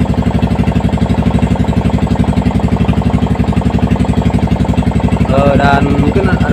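An old Yamaha Vixion motorcycle engine idles steadily at night in cold, foggy air, a loud, close, even rhythmic thumping with no revving and a brief faint bit of other sound near the end.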